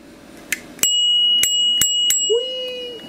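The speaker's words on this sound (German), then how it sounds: "Geht in die Klingel." A bicycle bell on a scrap e-bike gives a few quick bright dings, then rings out in a sustained metallic tone, close and loud, with no voices over it.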